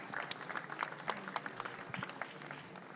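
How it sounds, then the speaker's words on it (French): Audience applauding speakers at a biomethane industry conference session, a steady patter of many hands clapping at moderate distance with no talk over it. "moi je vous propose d'applaudir nos intervenants"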